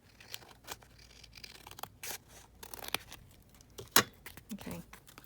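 Scissors trim across the top of an alcohol ink background paper, giving several sharp, close snips and crisp paper clicks spaced irregularly over quiet, including one louder cut near the end.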